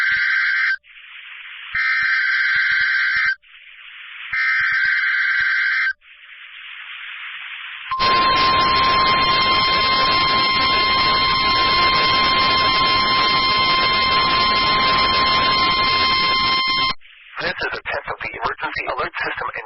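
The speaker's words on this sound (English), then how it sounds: "the National Weather Service transmits a signal that automatically activates specially built receivers to warn of the impending hazard" NOAA Weather Radio emergency alert: a run of buzzy data-burst tones, then a long, loud, steady warning alarm tone for about nine seconds, followed by a broadcast voice.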